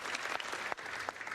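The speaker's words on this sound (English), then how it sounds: "getting a lot of applause from the Democrats" Faint, brief applause from Democrats in the House chamber, a soft, distant patter of many hands clapping at low level.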